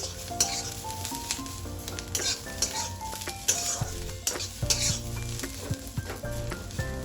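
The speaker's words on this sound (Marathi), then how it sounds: "आपले काजू आणि लसूण आता चांगले भाजले गेलेले आहेत." Cashews and garlic roasting in a pan for a Hyderabadi chicken dish, with a steady sizzle, stirring scrapes and clinks of a utensil against the pan over faint background music.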